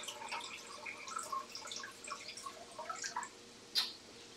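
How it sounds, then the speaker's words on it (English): Chicken broth trickles and drips into a measuring cup, a quiet run of small liquid splashes and plinks ending in one brighter splash, heard close with no talk. "we're going to pour about 2 cups of broth into the measuring cup"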